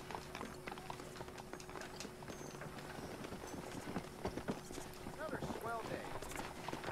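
Horse hooves clip-clopping in a Red Dead Redemption game scene in West Elizabeth, a steady rhythmic patter of hoofbeats running under game music and spoken dialogue.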